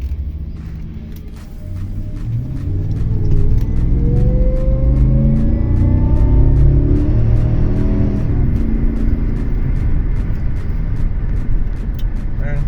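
A supercharged BMW V8 with a leaky injector and rough idle surges up from a low rumble into a loud, sustained acceleration with a rising whine, heard from inside the car while someone talks.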